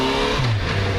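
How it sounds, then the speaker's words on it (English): A 2013 Yamaha FZ6R motorcycle with an inline-four engine revs close by, a brief rising whine sweeping up in pitch over a steady mechanical hum. "this bike has got a inline 4"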